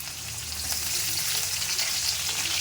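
Onions frying in very hot oil, a steady, dense sizzle close by with a low hum underneath, no voices.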